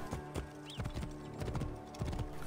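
Hooves clip-clop in a quick galloping rhythm, loud and close, with a brief whinny partway through and a droning background under it, from a horse in the video game Assassin's Creed Origins.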